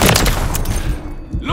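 Loud, dense gunfire and blasts from the video game Call of Duty: Modern Warfare 3, a rapid burst of shots and booms at close range with a voice shouting over the battle.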